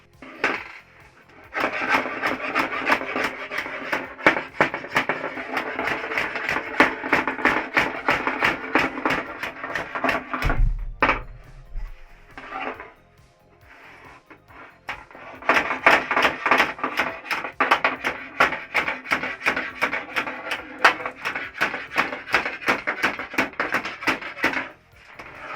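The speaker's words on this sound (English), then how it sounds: "So I'm gonna try and finishing up with the hammer right now." Rapid, continuous tapping of a hammer on thin sheet metal around a school bus window, dense and rhythmic, pausing briefly midway before resuming at the same quick pace.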